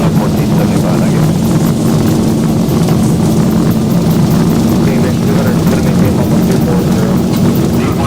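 A simulated Boeing 737 in X-Plane 12 runs its jet engines at takeoff thrust during the roll, giving a loud, steady, broadband roar that holds constant throughout, with a low hum underneath.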